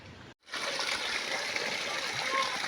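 Water gushes steadily from the drain of a water tank being emptied, a loud continuous rushing splash that starts abruptly after a brief silence and holds without letup.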